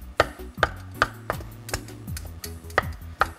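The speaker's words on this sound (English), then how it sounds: "we're going to start chopping this up to then put it back into our curry" A knife chops through cooked chicken on a cutting board for curry, with about ten crisp, evenly spaced knocks in a steady rhythm, close and clear with no talk.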